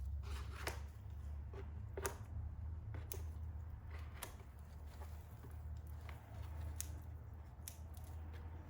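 Scissors trimming loose material for a handmade table centerpiece, a series of quiet, crisp snips at an irregular pace over a low background hum.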